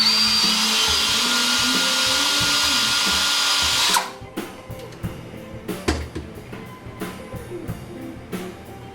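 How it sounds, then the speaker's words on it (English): A power drill bores a hole through material during a robot build, running steadily and loud for about four seconds, then stopping abruptly, followed by quieter handling clatter and knocks. "That's a strange thing about drilling holes in materials."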